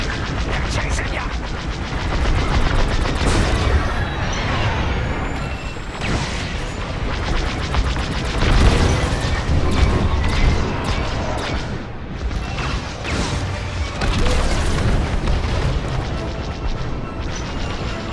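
Starfighter blaster fire and explosions in Star Wars Squadrons, with rapid repeated laser shots and heavy booming blasts in a chaotic, continuous space dogfight, with radio voices now and then.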